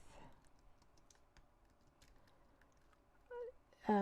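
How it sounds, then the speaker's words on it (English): Fingers tap a computer keyboard in short, faint bursts of clicks in a quiet room, followed by a brief louder sound at the end. "I can type into the comments"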